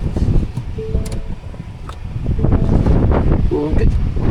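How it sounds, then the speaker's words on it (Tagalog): Strong wind on a mountain trail buffets the microphone in loud, continuous roaring gusts, with faint voices briefly heard beneath it. "Ang lakas ng hangin."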